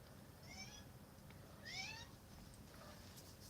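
A cat meows twice at a distance, faint and high-pitched over steady background hiss, with a softer third call at the end.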